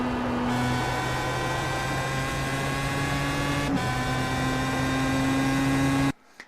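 A Pro Mazda race car engine in the iRacing simulator at Imola holds a steady, loud, high-revving drone at full throttle, shifts pitch a couple of times with gear changes, then cuts off abruptly.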